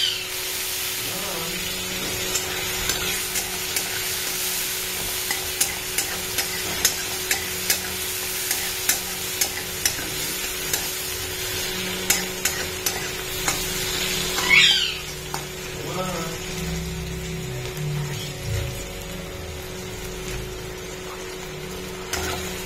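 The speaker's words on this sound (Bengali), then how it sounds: "এবার আমি একটু পেঁয়াজ ফোড়ন দেবো, এই তেলে একটু পেঁয়াজ ফোড়ন দেবো" Onion being tempered in hot oil left from frying fish, a continuous sizzling hiss with scattered sharp clicks and scraping spoon strokes, plus a brief louder clatter partway through.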